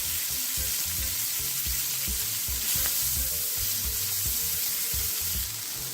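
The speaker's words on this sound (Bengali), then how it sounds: "আরও 1 চামচ আমি ঘি অ্যাড করছি, দিয়ে দিচ্ছি 2 বড় সাইজের পেঁয়াজ কুচনো আর কয়েকটা কাঁচা লঙ্কা চিরা।" Ghee sizzles busily around two large chopped onions and slit green chillies in a hot pan, a constant close frying crackle with the rhythmic scrape of stirring and no talking.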